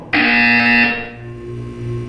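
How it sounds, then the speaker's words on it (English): A loud, harsh electronic buzzer from the game Portal 2 blares for about a second, then fades into a lower lingering hum. "You will hear a buzzer."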